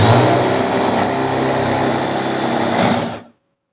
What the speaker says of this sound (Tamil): இப்போ இதை அரைச்சிட்டு வந்துடும் ரெண்டு வெங்காயம் ஒரு பெரிய தக்காளி